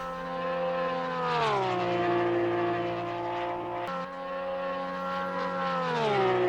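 Porsche GT3 R race car engine in Assetto Corsa Competizione at Paul Ricard, a loud, sustained, harmonic-rich wail that drops in pitch on upshifts twice, then climbs again, alone without talk.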